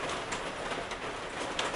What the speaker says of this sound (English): You can probably hear the pitter-patter of rain hitting the metal roof above me.